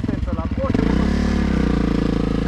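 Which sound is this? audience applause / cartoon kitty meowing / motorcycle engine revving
motorcycle engine revving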